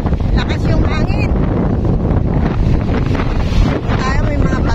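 Strong wind on a beach at Ilig-Iligan, Boracay buffets the microphone in a constant, heavy rumble, with a person's voice faintly heard beneath the roar.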